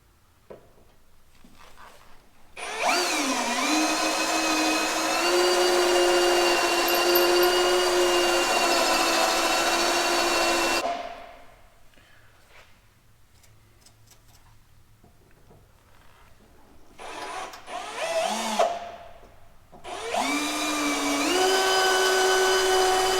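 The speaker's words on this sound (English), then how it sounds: "Don't drill all the way through, you're just drilling out the spot weld." A drill whines loudly in two long bursts while drilling out spot welds on a car body, its pitch rising as it spins up and steadies, with a quieter gap between the runs.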